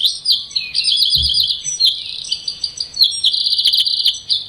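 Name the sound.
wren singing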